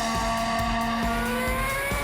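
Formula 1 race car of the turbo hybrid era, its engine note a steady high-pitched whine with strong sustained harmonics, loud and close, holding continuously for about two seconds with no talk.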